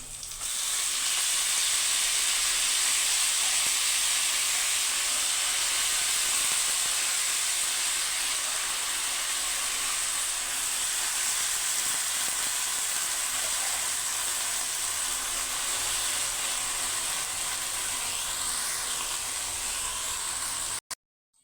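Red amaranth greens drop into a hot pan for a stir-fry, giving a loud, steady sizzle and steamy hiss that holds for about twenty seconds before cutting off abruptly.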